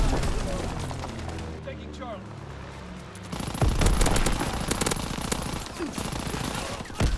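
Sustained machine-gun and rifle fire rattles through a World War II battle video game, loud rapid bursts layered over one another, with shouted commands heard over the shooting.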